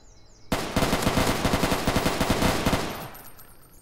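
A video game firearm rattles off a long, fast automatic burst of evenly spaced, loud, close shots lasting over two seconds, then stops, leaving a short fading tail.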